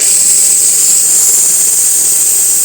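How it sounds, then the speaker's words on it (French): Steady, loud hiss of a Karcher SC5 steam cleaner jetting steam onto a car wheel rim outdoors, a continuous bright rush that holds unchanged for the whole stretch with no talk. "Donc voilà la vapeur."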